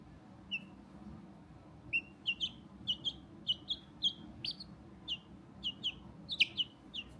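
A young chick peeps in short, high, bright calls, about a dozen spaced irregularly, close to the microphone over a low background hum.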